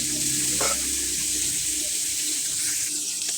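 Poa fish frying crisp in hot oil, a dense continuous hiss and crackle, fairly close and steady with a brief clink early on.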